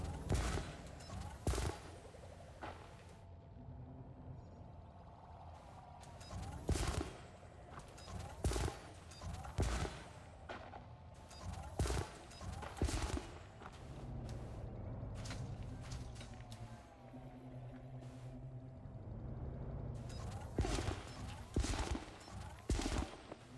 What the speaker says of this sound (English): I'm shooting at that one when there's one right here I could be firing at